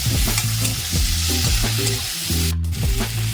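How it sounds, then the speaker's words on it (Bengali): Chopped tomato and two green chilies fry with fish in a hot pan, a loud continuous sizzle broken by rhythmic scraping strokes of a spatula stirring, with no talking. "এবার আমি দিয়ে দিচ্ছি টমেটো কুচি আর দিয়ে দেবো দুটো কাঁচা লঙ্কা দিয়ে একটু ভালো ভাজা করে নেব"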